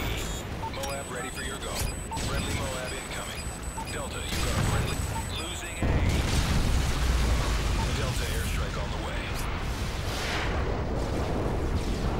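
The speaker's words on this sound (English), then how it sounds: "Friendly Predator missile inbound." Predator missile strike explosions in a Call of Duty multiplayer match on the map Downturn, heavy booms and rumbling blasts layered over continuous gunfire and game announcer voice callouts, loud and dense throughout.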